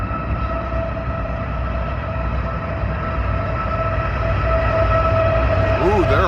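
A freight train led by CN engines rolls past close by, its steady loud rumble and wheel noise building over several seconds, with a sustained horn-like tone running throughout.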